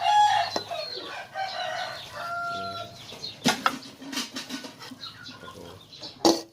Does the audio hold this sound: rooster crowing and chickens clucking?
yes